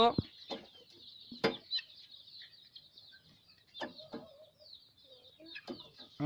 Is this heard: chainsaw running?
no